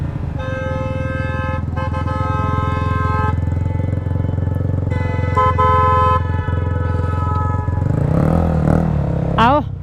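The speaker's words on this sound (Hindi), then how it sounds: "एग्जॉस्ट साउंड चेक कर रहे हो यार" A BMW S1000 RR superbike's exhaust roaring steadily and loud on a road ride, with sustained engine drone, a rising rev near the end and a vehicle horn sounding over it.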